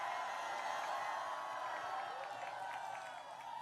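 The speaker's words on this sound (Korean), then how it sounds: "큰 박수와 함성 부탁드립니다." Crowd at an outdoor presidential campaign rally in Mokpo, South Korea, cheering and applauding as the candidate's speech is about to begin, a steady dense wash of noise at moderate level that fades slightly near the end.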